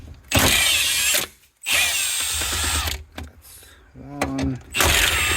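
A power tool zips out bolts from the battery pack of a 2009 Ford Escape Hybrid in loud, close whirring bursts of about a second each, broken by brief silences and softer clicks.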